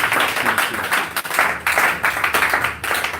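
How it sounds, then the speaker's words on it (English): Applause from an audience at a Jju Wikipedia outreach event, a steady patter of many hands clapping at close to moderate distance, swelling and dipping in uneven waves with no voices over it. "please give him a round of applause"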